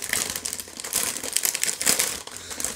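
Crinkling plastic bag around an ASUS GTX960 graphics card being pulled open by hand, a close, continuous rustle and crackle with sharper crunches, no talk.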